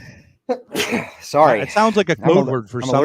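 A single sharp sneeze bursts out near the start, followed by people talking.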